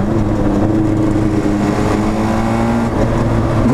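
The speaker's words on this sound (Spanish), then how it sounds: "¿Cómo suena Maserati?" A Maserati sports car engine revs loudly nearby on a street, its tone climbing and falling in short bursts over a steady rumbling drone.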